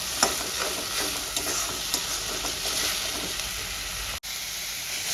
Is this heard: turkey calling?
no